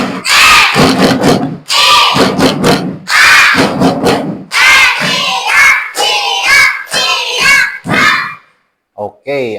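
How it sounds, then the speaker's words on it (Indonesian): Schoolchildren in a classroom performing a rhythmic clapping chant, bursts of voices chanting together punctuated by claps in a loud, close, patterned sequence that stops abruptly near the end. "Tepuk siap."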